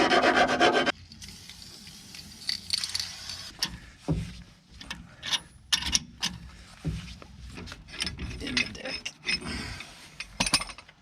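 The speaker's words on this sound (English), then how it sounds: "I've got this die grinder and just go around here and see if I can open it" A die grinder works metal while opening up a front leaf spring shackle eye for new bushings on a first-generation Cummins truck, giving repeated rasping, scraping bursts at close range with short pauses between passes, with no talk.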